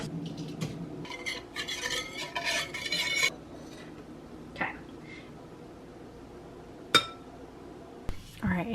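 Brown sugar being scooped with a tablespoon into a bowl, heard as a cluster of scraping, clinking spoon-on-dish sounds early on, followed by a few isolated clinks and knocks in a quiet kitchen.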